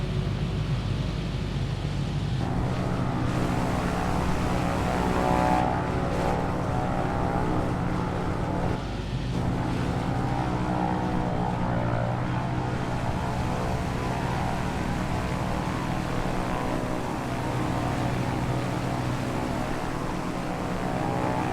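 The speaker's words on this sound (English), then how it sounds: "The outside sound, when you're far from the airplane, it still sounds pretty loud" A Wilga propeller airplane engine in Microsoft Flight Simulator 2024 drones steadily from outside, a loud, constant broadband roar with a low propeller hum that stays even throughout.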